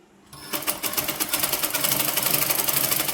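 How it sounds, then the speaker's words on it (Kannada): A sewing machine stitching a sleeve onto a dress starts up after a brief quiet moment, then runs in a steady, rapid mechanical whir with fast rhythmic needle clatter, close and continuous. "ಈಗ ಹೊಲಿಗೆ ಹಾಕೋತೀನಿ"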